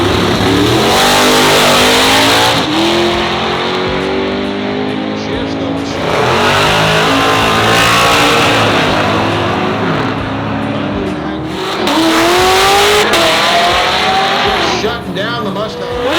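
A drag racing car launches and accelerates down a quarter-mile strip, its engine note climbing loudly in repeated rising sweeps with the roar holding strong throughout, with a brief drop midway before it surges again.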